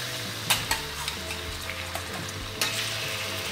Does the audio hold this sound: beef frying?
yes